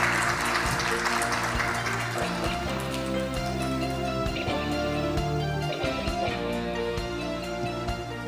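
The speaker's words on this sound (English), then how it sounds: "Please give them another round of big applause for their insightful and informative presentations" An audience applauds after a set of presentations at an ocean and fisheries forum, a steady wash of clapping that runs the whole time beneath sustained tonal music.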